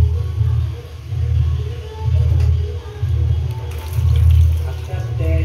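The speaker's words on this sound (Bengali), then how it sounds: "না গোপালের মাথা জল দাও" Water poured over a small Gopal idol during a Janmashtami bathing ritual, a steady low gurgling splash that swells and fades rhythmically, with talking nearby.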